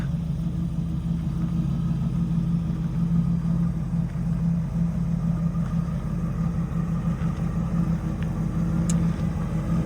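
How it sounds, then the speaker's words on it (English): A 1978 Ford F-250 4x4 truck engine idles steadily, a deep, even low rumble that holds constant throughout with no talking. "This thing sounds amazing in idle"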